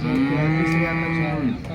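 A cow at the Modnimb cattle market gives one long, loud, steady moo that lasts nearly two seconds, close to the listener, with faint market noise around it.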